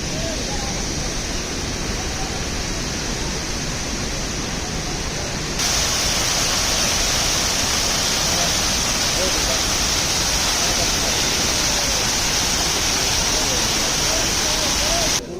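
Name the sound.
waterfall on the Amarnath Yatra route from Pahalgam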